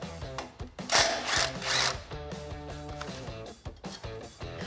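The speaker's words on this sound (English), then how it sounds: "Grab a 12mm socket and get this bolt removed." Tool whirring close up while a 12mm socket backs out the bolt on a brake line bracket of a Toyota Tacoma during a suspension lift install, the motor noise steady with a few louder surges.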